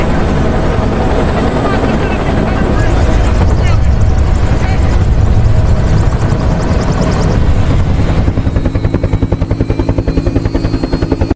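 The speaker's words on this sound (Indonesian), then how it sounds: "Stephen yang ketakutan pun kabur menggunakan helikopter milik polisi." A police helicopter in a film scene, its rotor roaring loud and close for the whole stretch, with a steady throbbing beat that grows more distinct and choppy near the end.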